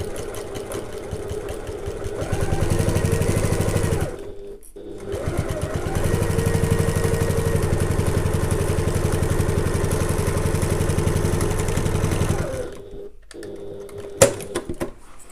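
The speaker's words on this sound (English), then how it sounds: "Now we're going to sew both of these side seams using our regular stitch length and our 3/8 of an inch seam allowance." Sewing machine stitching the side seams of a tote bag at a regular stitch length, a steady close mechanical whir running in two long bursts separated by a brief pause, ending with a few small clicks.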